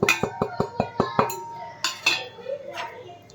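Metal spoon clinking and scraping against a vessel while tamarind water is mixed with turmeric and chilli powder for a fish curry, a quick series of sharp taps followed by slower stirring clinks.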